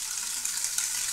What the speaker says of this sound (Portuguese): aqui na frigideira umas 150 gramas de bacon